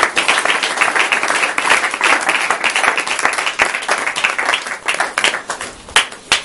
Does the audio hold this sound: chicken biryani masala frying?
no